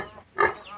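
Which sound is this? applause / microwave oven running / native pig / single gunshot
native pig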